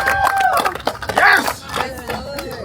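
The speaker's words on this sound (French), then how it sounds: "Gloire au Seigneur, on peut applaudir." Crowd clapping at a church birthday celebration, mixed with cheering voices and loud talk throughout, the claps partly masked under the shouting.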